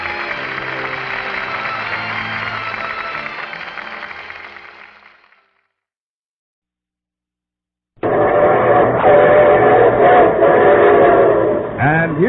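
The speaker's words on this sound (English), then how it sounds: "And here comes the star-studded show train." Radio show sound effect of a train: a loud rolling rumble with whistle blasts fades out into silence, then the train returns abruptly with louder clattering and a sharp whistle toward the end.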